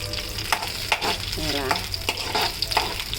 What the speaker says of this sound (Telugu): ఇలా వేయించుకుంటుంటే కొంచెం ఎర్రగా వేగిన తర్వాత